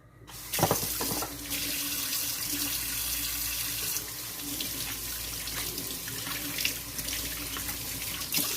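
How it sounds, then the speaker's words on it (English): Tap water runs steadily while hands are washed at a kitchen sink during preparation of stuffed Cornish hens, a continuous close splashing rush with a sharper splash near the start and no talking. "Wash my hands."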